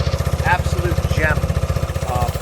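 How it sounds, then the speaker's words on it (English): A 1971 Honda SL125 motorcycle exhaust idling with a rapid, lumpy low-frequency pulse, close and loud, while a voice speaks briefly over it. "Listen to an exhaust note on this thing too."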